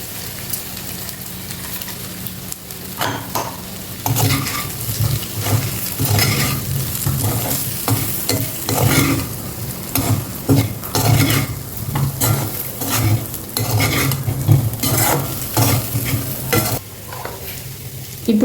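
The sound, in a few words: baby potatoes frying, spice powder stirred in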